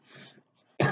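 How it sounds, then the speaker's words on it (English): A single short cough, abrupt and fairly close, following a quiet murmur of throat noise and a brief pause. "Sorry about the cough."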